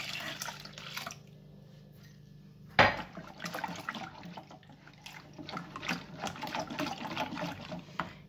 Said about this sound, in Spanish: Ahora agregamos la leche.